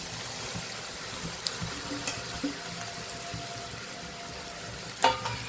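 Ridge gourd goes into hot oil already tempered with mustard seeds, cumin and a pinch of asafoetida for a Kathiyawadi-style dish. A soft, low sizzle follows, with a few light clatters and one sharper clink toward the end.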